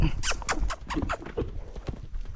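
A horse trotting with hooves clip-clopping in a steady, quick rhythm, close and fairly loud over outdoor background noise.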